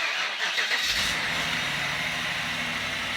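A BMW 650i engine cranks and fires almost at once, then settles into a steady idle, heard close with no talking.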